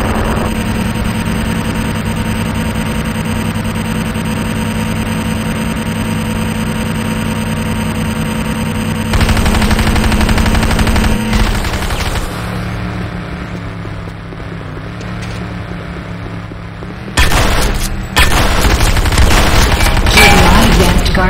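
Gunfire against the GDI Advanced Guard Tower in the game Renegade: sustained loud firing and rumbling booms over a droning engine-like bed, with sharp louder bursts near the end.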